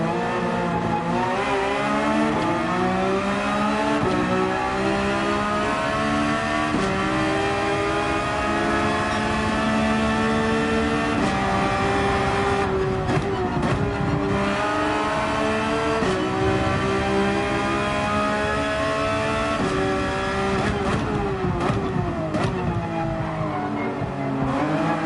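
Race car engines from Gran Turismo 7 at Interlagos roar continuously and loudly, with a rival car running alongside, pitch rising and falling through gear shifts and acceleration, with brief tire squeals.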